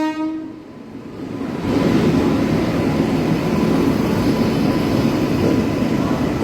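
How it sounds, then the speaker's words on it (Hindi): Sanghamitra Express rushes past at close range, a loud steady roar of wheels and rushing wind following a brief horn-like tone at the start. "ये आ गई संघमित्रा एक्सप्रेस।"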